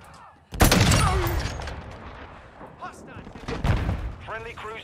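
A video game sniper fight on a hardpoint brings a sudden loud gunshot boom that rumbles away, then scattered distant shots and bursts behind radio-style game voices.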